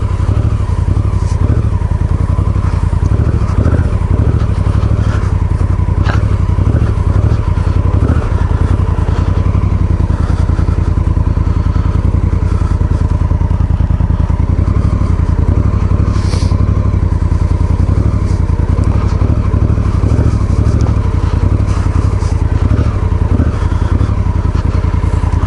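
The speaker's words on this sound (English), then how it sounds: "Riding through the snow on the Africa Twin." An Africa Twin motorcycle rides through spring snow with a constant loud engine drone, close and unbroken, with faint clatter and scraping mixed in throughout.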